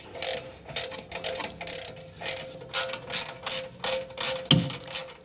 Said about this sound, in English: Get those on hand tight, and then we'll tighten them up with a wrench.